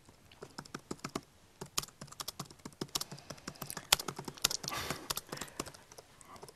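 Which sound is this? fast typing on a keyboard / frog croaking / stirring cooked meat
fast typing on a keyboard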